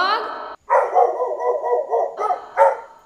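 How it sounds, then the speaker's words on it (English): A dog gives a short yelp followed by a run of close, loud, throaty barking and whining vocalizations that end in a final sharp bark. "D for dog."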